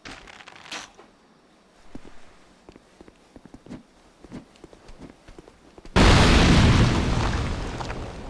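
A barrel explodes in Dark Souls 2: after scattered light clanks and footfalls, a sudden loud blast erupts and rolls on as a dense, roaring rumble that slowly fades.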